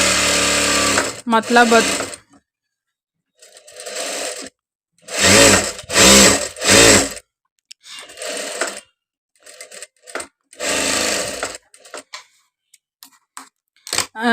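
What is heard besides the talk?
Juki sewing machine running, straight stitching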